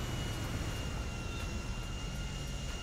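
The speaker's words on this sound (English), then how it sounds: "And that big plane just landed too." A large airplane roars steadily in GTA 5 as it lands, a loud, continuous engine drone with a faint high whine over it and no pauses.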